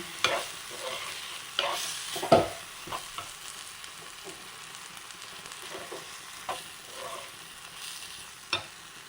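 Drumstick leaves and jackfruit seeds are stirred in a pan as a stir-fry, with a spoon scraping and clacking at irregular intervals and a few sharper knocks over a soft, steady sizzle; no talking.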